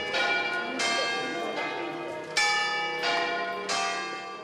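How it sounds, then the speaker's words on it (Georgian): Catholic church bells ring out during a religious procession through old streets, with strokes repeating roughly every second and ringing tones overlapping in a loud, sustained clangor that stays near and continuous. "მათ მსვლელობას კათოლიკური ეკლესიების ზარების რეკვა ახლავს თან."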